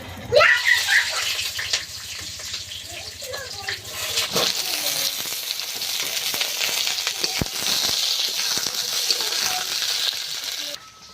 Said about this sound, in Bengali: প্রথমে কিন্তু আমি বেগুনটা একটু হালকা ভেজে নেবো